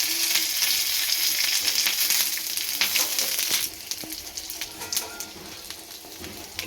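Mustard seeds, curry leaves and asafoetida sizzling in hot oil for a coconut chutney tempering, a loud continuous fry that drops to a quieter crackle partway through, with occasional stirring taps.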